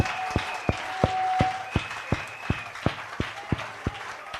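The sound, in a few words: applause for the Lord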